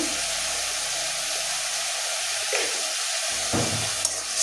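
Spices and taro stolons sauté in a pan with a steady, hissing sizzle, broken near the end by a couple of stirring scrapes; no one speaks over the frying.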